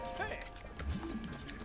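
Horse hooves clip-clop while riding in the Zelda: Breath of the Wild video game, a faint rhythmic trot under people talking and game music.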